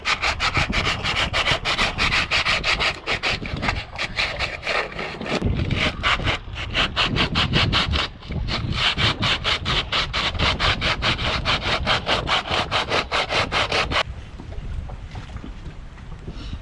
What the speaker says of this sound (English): So I'm going to hand sand here and work on getting that smooth.